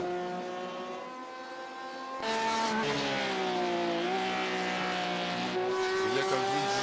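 Porsche 911 RSR race car in a racing video game at Fuji Speedway, its engine droning steadily with a tonal, harmonic whine, then rising louder partway through and holding at a high pitch with small shifts in revs.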